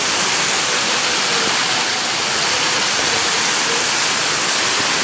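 Downpour at night, a loud continuous rush of heavy rain falling without pause and no talking over it.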